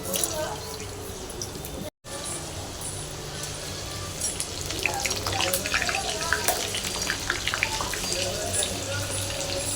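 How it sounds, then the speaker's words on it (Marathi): Wheat flour modak deep-frying in hot oil gives a continuous crackling sizzle with scattered sharp pops, briefly cut out near the start and then growing a little busier. "मोदक तळते. एका हाताने तुम्हाला मोदक तळता येतं."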